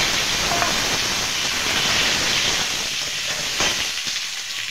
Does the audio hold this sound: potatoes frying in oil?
yes